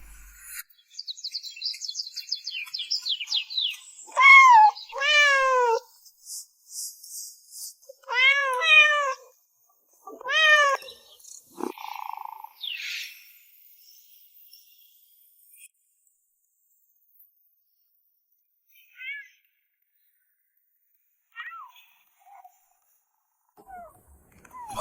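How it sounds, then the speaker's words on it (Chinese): A tomcat and a litter of kittens meow repeatedly in a lively cluster of close, high mews over the first dozen seconds, then fall to scattered faint calls and quiet stretches with soft purring. "猫太子当爹爹了，这么多小猫咪，好热闹呀"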